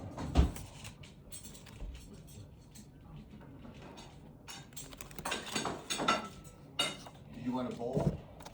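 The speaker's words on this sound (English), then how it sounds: "you still gotta listen to the sounds of my parents cooking" Parents cooking in a home kitchen: scattered clinks of dishes and cutlery, cupboard knocks and sliding clatter at a modest distance, irregular and fairly quiet, with faint talk mixed in.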